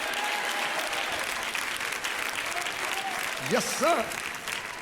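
A church congregation claps steadily throughout, a dense wash of applause from a large crowd, with a voice briefly speaking over it near the end.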